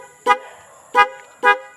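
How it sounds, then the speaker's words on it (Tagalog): Dual contact horn fitted to a Yamaha YTX 125 motorcycle honks in three short, loud bursts with brief pauses between them, close to the microphone, with no talk. "Then pag tig-click natin to, gagana yung dual contact horn natin"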